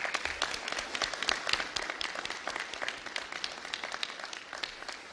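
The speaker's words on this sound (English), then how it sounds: "you all deserve a round of applause" A crowd applauds at a legislation signing in Illinois, dense clapping from many hands that rises quickly and stays fairly steady before thinning slightly near the end.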